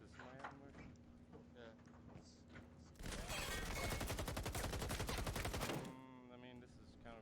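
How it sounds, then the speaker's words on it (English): Sustained burst of rapid gunfire in a competitive multiplayer video game match, a dense stream of shots lasting about three seconds, loud and close, with game sounds and commentary before and after. "It's just a straight gunfight."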